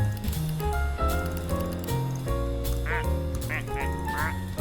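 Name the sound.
plastic ducks quacking when clicked, from a video game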